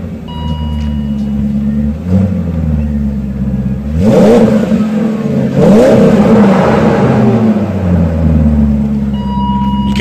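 A 2018 BMW X5 engine revs up twice from a steady idle, each rise swelling loud and close before settling back to a low rumble.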